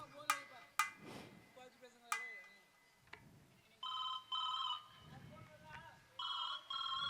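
Telephone ringtone on an incoming call, sounding in two bursts of several repeating electronic tones amid scattered knocks and faint voices nearby.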